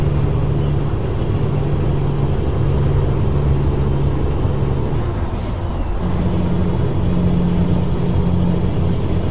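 Kenworth T680 truck engine sound mod in American Truck Simulator: a steady, loud diesel drone with a gear or load shift midway and a brief air hiss, no talk.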